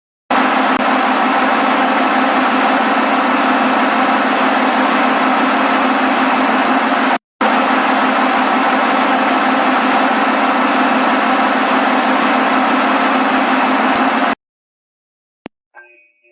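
A diesel generator engine runs in a virtual power plant simulation, a loud, steady drone that holds constant, drops out for a moment, resumes, then cuts off into near silence.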